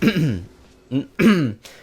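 A man clears his throat up close in a few short, rough bursts separated by brief pauses.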